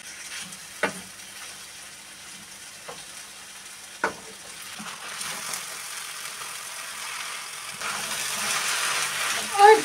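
Potatoes fry in a pan with red pepper flakes, giving a steady low sizzle that builds toward the end, broken by a few sharp clinks of a utensil against the pan.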